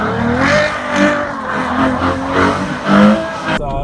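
A Ferrari FF, an all-wheel-drive car, spins donuts on a snowy lot. Loud engine revs rise and fall in waves with tire noise, close up and continuous, and no talk over it.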